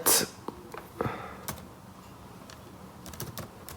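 Computer keyboard keys tapped in short, irregular clusters of crisp clicks at close range while an address is entered, with quiet pauses between bursts.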